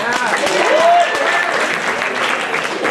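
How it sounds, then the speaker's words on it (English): Audience applause at a stand-up comedy show, a loud sustained burst of clapping with cheers and whoops mixed in, fairly even throughout. "Let's have a round of applause for that."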